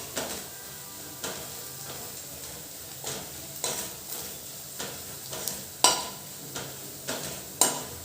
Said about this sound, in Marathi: आणि थोडीशी धना पावडर हळद पावडर छान तेलात शेकून घ्यायची